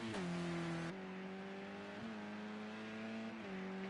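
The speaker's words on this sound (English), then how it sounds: "the revs spinning up as his tyres spin around through those puddles" A touring car at Snetterton revs hard as its tyres spin through puddles, the engine note holding a steady buzzing pitch, then dropping and rising again with gear changes, loud and close throughout.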